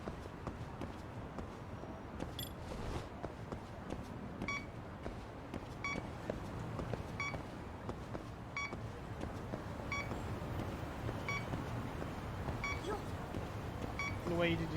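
Short electronic beeps from the Lost Judgment video game chime at intervals over a busy, steady backdrop of game ambience and footsteps, faint and spaced every second or so.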